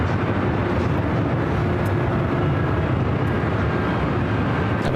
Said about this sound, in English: this flight heading to Honolulu. It's a Delta 767-300ER